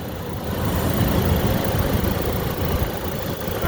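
A 2008 GMC Canyon engine idling, a steady, close, low rumbling drone that holds even throughout with no voices.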